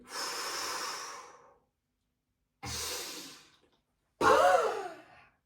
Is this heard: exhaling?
yes